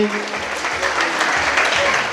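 Crowd applause at a Rwandan traditional marriage ceremony, steady hand clapping from many people, close and sustained, with voices mixed in.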